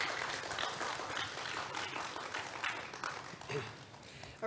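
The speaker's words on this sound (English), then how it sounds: "let's give him another round of applause." Scattered applause at an education conference, a fairly faint and uneven patter of clapping that holds steady for a few seconds with some background murmur.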